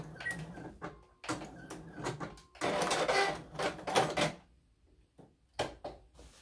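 A sewing machine stitches a shirt hem in short, quiet bursts of rapid whirring with pauses and small handling clicks between runs.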